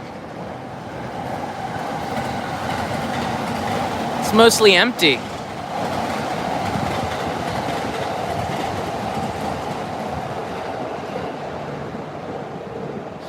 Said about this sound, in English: Ah, there's the Narita Express. You see that train coming?